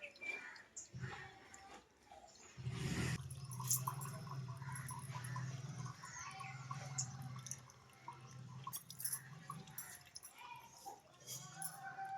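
Water runs out of a cracked coconut, a soft trickle and drip that swells into a steadier low pouring flow after a few seconds, close and quiet.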